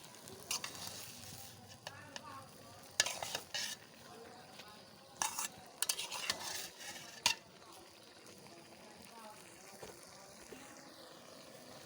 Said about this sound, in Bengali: একটু ভালো করে নাড়িয়ে নিব যাতে সব শাকে শুকে লবণ বা মরিচ ভালোভাবে লাগে